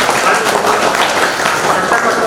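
An audience at a Kanaka Jayanti gathering breaks into loud, sustained applause, a thick continuous clatter of many hands, with a voice talking over it.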